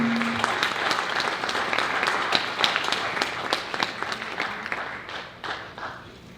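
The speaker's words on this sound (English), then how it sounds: "Please put a round of applause for the teachers." An audience at a community fundraising banquet gives the teachers a sustained round of applause: dense, steady clapping from many hands fills the room, then thins out slightly toward the end.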